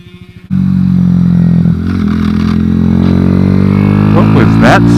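Kawasaki Z125 motorcycle, lowered and stretched, on a kart track, idling then catching a gear and running steadily near by, with a mechanical clatter and a faint possible dragging noise toward the end.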